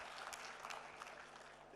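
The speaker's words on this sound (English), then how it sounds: "let's clap for him again" A live audience at an ethnopharmacology conference session applauds with a continuous patter of claps, faint and distant, heard alone without talk.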